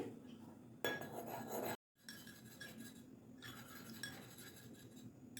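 A spoon mixing yogurt and rose water into a face pack in a small bowl: quiet clinks and scraping, busiest for a moment early on and then a brief silence before softer mixing resumes.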